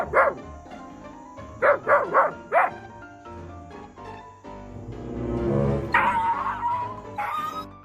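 A dog lets out a string of sharp yips and barks early on, then whimpers and whines with rising, plaintive cries nearby, with no talking.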